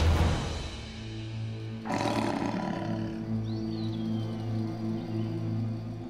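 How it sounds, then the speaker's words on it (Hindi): A lion roars in a dramatic TV serial scene, a deep rumbling roar that swells loudly near the two-second mark and continues over a steady low droning music bed. "ये तो सचमुच शेर की आवाज है।"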